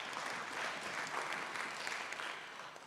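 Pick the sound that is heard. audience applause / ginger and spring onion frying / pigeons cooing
audience applause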